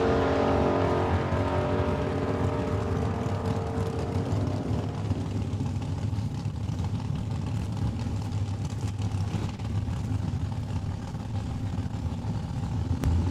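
A 1970 El Camino drag racing at Saskatchewan International Raceway, its engine roaring loud and close at first, then fading into a steady distant drone as it runs down the track.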